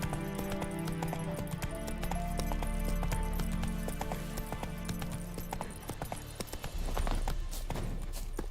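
Horse hooves gallop in a steady clip-clop rhythm in The Witcher 3, close and continuous beneath a dense game soundtrack and ambient effects, with a short lull before the pounding resumes.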